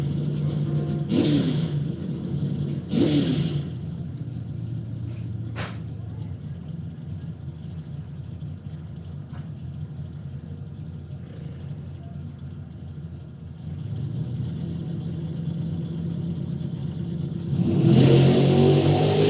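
Mopar and Chevrolet footbrake-class drag race cars at a dragstrip, with engine noise rising in bursts of acceleration near the start and again at the end over a steady rumbling background and crowd ambience.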